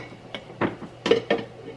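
A spoon is picked up in a home kitchen, giving four or five light metallic clinks of cutlery against dishes, spaced irregularly and close, with no talk.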